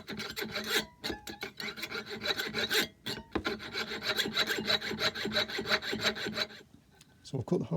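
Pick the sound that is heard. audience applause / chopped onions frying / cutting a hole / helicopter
cutting a hole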